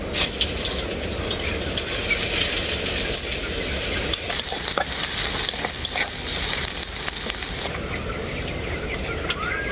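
Crushed garlic and dried chilli sputter and crackle continuously in hot mustard oil, a dense close sizzle with scattered sharp pops and stirring scrapes throughout.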